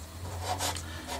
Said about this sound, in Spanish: lijar para hacer desaparecer cualquier resto